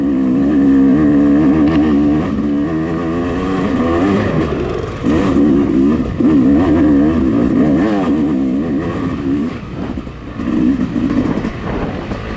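A Yamaha YZ250X two-stroke dirt bike revs hard up a silty hill climb at an off-road race, its loud, wavering engine note rising and dipping as the throttle opens and closes.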